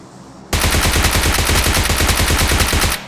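Rapid automatic gunfire in PUBG Mobile bursts loudly for about two and a half seconds, sharp repeated shots with a game-like punch, after a quiet start.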